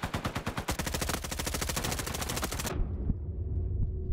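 Rapid automatic gunfire in a Roblox Call of Duty style video game, a fast even burst of shots lasting over two seconds, then cutting off to a quieter low hum with a faint thump.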